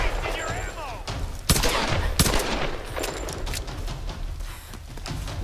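Gunfire in the Tomb Raider video game, scattered sharp shots and bursts with a couple of loud cracks amid busy game noise, close and punchy.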